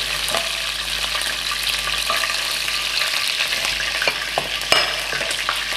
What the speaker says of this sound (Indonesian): Udah di sear sampai coklat gini